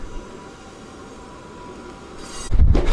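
A Kotoden (Kotohira Electric Railway) train that formerly ran on Keikyu, running with a steady low rumble and hiss, then a louder burst of rolling clatter near the end.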